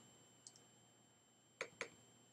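A computer mouse clicked twice in quick succession, crisp and close in a quiet room, following a fainter pair of light ticks a moment earlier.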